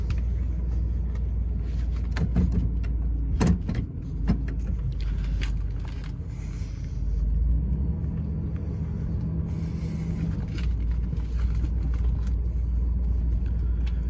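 A 1995 Chevy Caprice Classic driven from inside the cabin, low steady engine and road rumble throughout, with a few sharp clicks and clunks early on and no talking.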